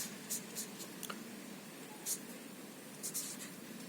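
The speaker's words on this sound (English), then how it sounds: "So let's write the alcohol here" Pen or marker scratching out a chemistry equation, faint, intermittent strokes in short bursts against a quiet room hiss.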